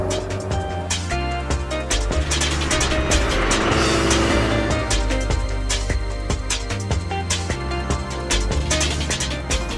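A kit-built track day sports car's engine roars loudly and continuously, revving up and down through gear changes at close range.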